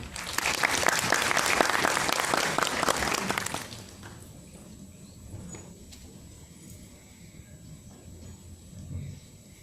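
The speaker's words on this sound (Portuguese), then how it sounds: "Peço uma salva de palmas para a Cléo." A conference audience applauds a panelist before her talk on computational linguistics, dense loud clapping for about four seconds that then stops abruptly, leaving quiet room noise.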